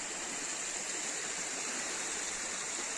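A forest stream rushes steadily with a continuous, even hiss of flowing water, fairly close and with no other sounds.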